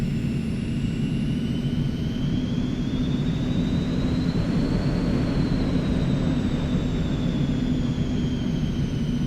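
Steady jet-like engine drone and low rumble of a small plane taxiing in X-Plane 11, with a faint high whine slowly rising and falling; continuous and fairly loud, with no talk.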